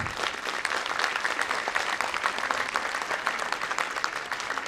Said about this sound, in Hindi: एक बार जोरदार तालियां यहां पे होनी चाहिए थी।